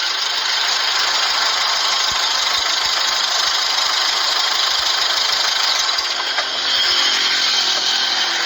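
A vehicle engine runs at a steady idle, a continuous mid-pitched drone with a faint knock. It holds for the whole stretch and does not shut off.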